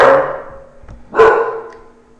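A dog gives two short, close barks with a brief gap between them, loud and otherwise alone.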